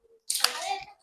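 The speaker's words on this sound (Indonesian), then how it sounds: "Kalau misalnya imamnya perempuan, memberitahunya dengan apa? Tepuk tangan." A hand clap demonstration shows how to alert a prayer leader. A single sharp, close clap rings out in a short burst, with a voice briefly audible alongside it.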